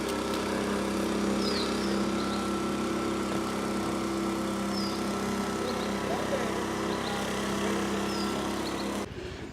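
A leaf blower drones steadily at the Copan Mayan ruins in Honduras, a loud constant engine whine with faint birdsong, cutting off just before the end.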